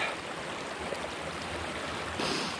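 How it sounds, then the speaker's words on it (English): Creek at a trail crossing near Crown King, a steady, close rushing and babbling of flowing water that swells slightly near the end, with no talk. "We have a creek crossing."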